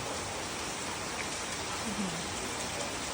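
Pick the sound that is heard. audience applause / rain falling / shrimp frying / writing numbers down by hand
rain falling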